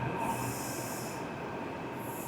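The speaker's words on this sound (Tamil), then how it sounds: "ட்ரெயின் வந்து கிளம்பி போயிட்டே இருக்குது." A train pulls away from a station platform in Delhi, a steady rolling rumble with faint wheel squeal and hiss, moderately distant and continuous without talk.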